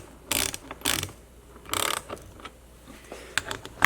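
A ratchet wrench tightens the windshield bracket bolts on a Jeep TJ/LJ, with short bursts of rapid clicking close by, separated by pauses and a few lighter clicks.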